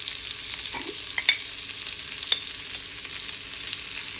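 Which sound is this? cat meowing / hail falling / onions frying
onions frying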